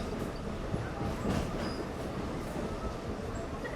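A train runs along the riverside railway through Lehigh Gorge near Jim Thorpe, Pennsylvania, giving a steady, moderately loud rolling rumble with faint squeaks and no talking.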